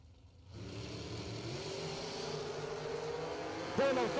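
Drag racing cars, a 2003 Mullis and a 2008 Race Tech, launch off the line with a rising, sustained engine roar that swells and holds, ending in a sharper burst of revving.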